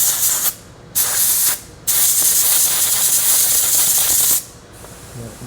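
Compressed air blasts out freshly tapped holes in a metal BMW angle kit part, three loud, steady hissing bursts of about half a second to over two seconds each, separated by brief quieter gaps.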